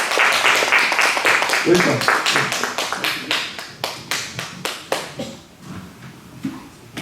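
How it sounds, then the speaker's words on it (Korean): A church congregation claps to welcome visiting missionaries, a burst of applause that thins into a handful of distinct claps and fades out, with a voice speaking briefly. "여러분 좀 멀리 있지만 박수로 한번 환영해 주시면 감사하겠습니다."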